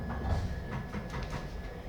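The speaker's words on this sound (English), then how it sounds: "He stood there watching the red light of his train disappear." A departing train in a radio drama sound effect, carried on a steady low rumble with faint rhythmic rail clatter. It stays at moderate level throughout, with no talk.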